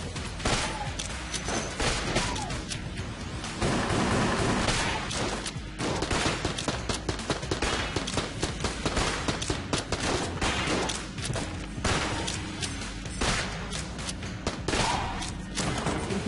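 Rapid gunfire from the roguelike shooter video game Enter the Gungeon, dense bursts of shots and thuds firing almost continuously and loudly throughout, with no talking.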